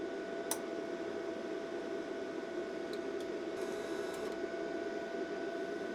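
A Vevor MIG-200 flux core welder feeds wire with its power unhooked, giving a faint, steady motor hum with a few soft ticks and clicks and no voices.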